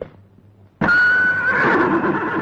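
A horse neighs loudly and close by in an early-1930s film scene, a sudden strong whinny that rises after a brief quieter moment and carries on to the end, with no talking.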